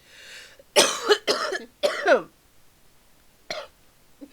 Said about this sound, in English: I'm going to cough now so I can breathe.